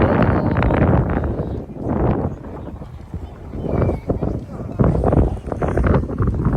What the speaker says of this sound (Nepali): बोलेको चाहिँ केही सुनिँदैन होला, यहाँको हावा एकदम लागिरहेछ।